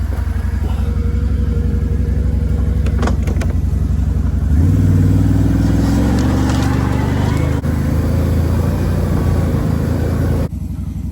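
An ATV drives through Newfoundland bush, its engine droning loud and close, then revving harder about midway before settling back into a steady run.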